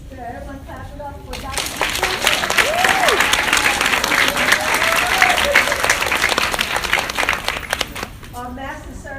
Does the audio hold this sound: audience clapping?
yes